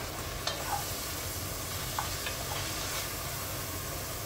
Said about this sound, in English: My meat here is browning nicely